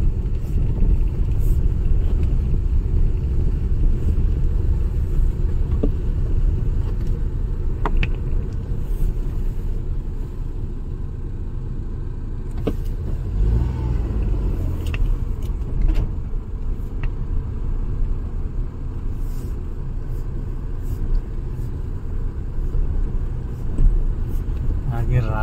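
A car engine runs with the heater on in a snowy village: a steady low rumble from inside the vehicle lasts throughout, with a voice talking over it and a few faint clicks and jingles.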